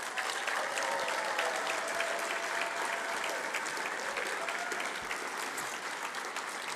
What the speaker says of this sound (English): a big round of applause, I think, for Daniel on stage.